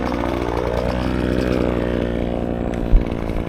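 A weed trimmer fitted with an inexpensive chainsaw attachment runs steadily at close range, a loud continuous buzzing engine drone with a brief bump near the end and no talking.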